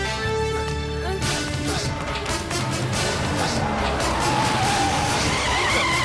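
In a Hindi film scene, a car skids to a stop with a loud, sustained screech of tires under engine roar and a dramatic music score that fills the whole stretch, without clear speech.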